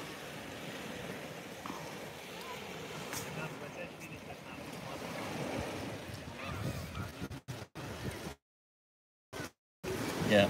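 Waves wash onto the shore at Vadu beach as a steady, broad surf rush mixed with wind noise, then cut out abruptly in several brief gaps near the end.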